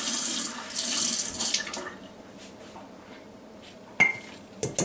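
Water runs and splashes steadily for a couple of seconds as a quarter cup is poured in for a sourdough starter, then quiets, followed by a couple of sharp clinks nearby.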